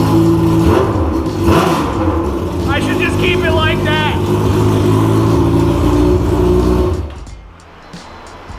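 A Honda CBR1000RR with a straight-piped, homemade midpipe exhaust rumbles loudly at idle with slight throttle changes while someone talks over it. The engine then cuts to a much quieter level near the end.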